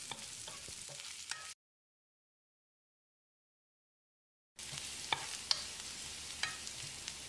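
Chopped garlic and curry leaves sizzle in hot oil as they are stirred in a pan, with a few clicks of the utensil. The sound cuts out to silence midway, then resumes.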